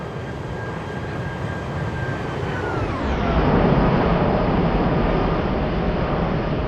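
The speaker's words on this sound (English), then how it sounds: "Let's get a flyby more, because this plane just looks so good." An Airbus A321neo jet sweeps past in a flight simulator game, its engine whine dropping in pitch as it passes, then giving way to a loud, steady rumbling roar as it recedes.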